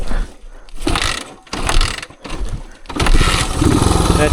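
A 1978 Suzuki DR370 trail motorcycle engine revving as the throttle opens further, a loud, rough, continuous drone with bursts and dips over uneven off-camber woods terrain, close to the rider.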